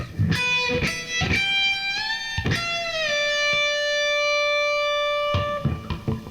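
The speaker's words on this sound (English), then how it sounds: "The next bend is called a catch bend." Electric guitar playing a catch bend lick: picked notes bend upward, sustain with a long ringing tone, then release back down, with a few attacks at the end.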